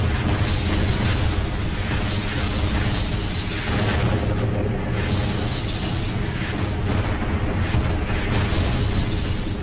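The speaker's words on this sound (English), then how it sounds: "we were met with huge artillery fire." Dense artillery fire and explosions at the Battle of Kursk make a continuous loud rumbling barrage, heavy booms overlapping without pause throughout.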